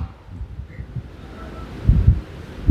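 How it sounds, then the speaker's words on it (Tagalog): Strong typhoon wind roars in low, rumbling gusts that swell and buffet close to the microphone, growing heavier toward the end, with no clear voices. "grabe ka kusog kang hangin"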